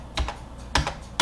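Three short clusters of keystrokes on a computer keyboard, close and crisp, each a quick tapping burst with pauses between.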